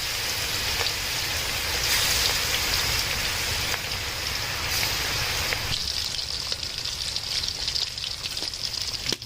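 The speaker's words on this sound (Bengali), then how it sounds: "আমরা মাছ ভাজার জন্য তেলে দিয়ে দিলাম" Pieces of rohu fish fry in hot oil, a dense, continuous crackling sizzle heard up close, loud and steady throughout with no voices.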